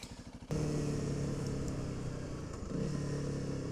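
A Honda CRF300L motorcycle idles with a lumpy single-cylinder pulse, then the throttle opens sharply and the bike rides off, its engine note loud and steady nearby with a second surge of revs.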